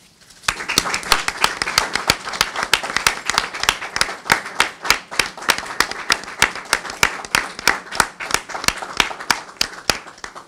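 Applause at a press conference, held in memory of a player, before new signings are presented: a small group of hands clapping steadily and fairly close for about ten seconds, with individual claps distinct.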